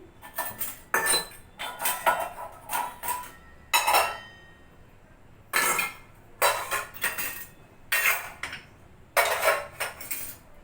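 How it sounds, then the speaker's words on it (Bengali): Steel dishes and utensils from an evening snack clatter and clink in repeated bursts as they are handled and stacked, close and loud with short pauses between. "এগুলো সব সন্ধ্যাবেলাকার টিফিনের বাসন, বুঝলে?"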